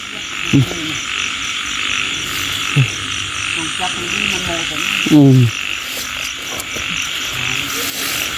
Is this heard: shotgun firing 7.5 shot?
no